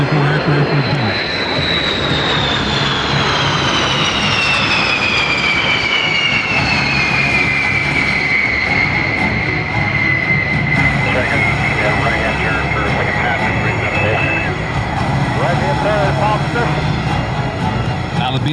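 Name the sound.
B-52 Stratofortress bomber flying by at air show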